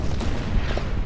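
A shot rings out in the strategy game Order of Battle: Winter War during the Viipuri battle, a deep, rumbling boom that fills the whole second with dense, sustained low noise.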